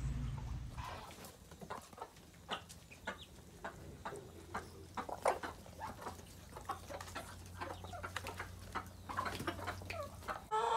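Chickens on a small Salvadoran farm cluck and call in a busy, overlapping chorus while their pen is being cleaned, with sharp nearby clucks rising over a low steady hum.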